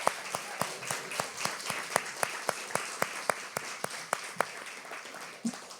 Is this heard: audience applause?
yes